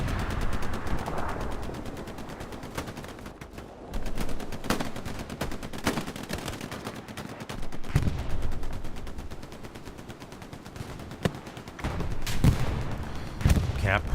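Game gunfire in Hell Let Loose, with sharp rifle and machine-gun shots cracking in irregular bursts, some near and loud, others distant, and a round ricocheting amid the battle noise.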